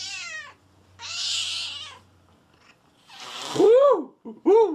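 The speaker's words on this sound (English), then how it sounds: "That's a pissed off kitty." An angry cat yowls and meows several times, loud and close, with drawn-out rising and falling cries separated by short pauses.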